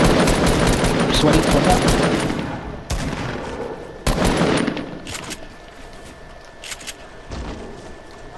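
Rapid bursts of automatic gunfire in the Fortnite battle royale game, loud and close, arriving in dense volleys with short gaps and then sparser single shots, while a player talks over them.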